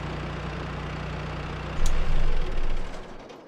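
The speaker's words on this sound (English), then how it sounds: "That's a really loud little tractor" A small tractor engine in Farming Simulator 22 idles with a steady low rumble, then swells louder partway through as it revs, staying close and continuous with no talking.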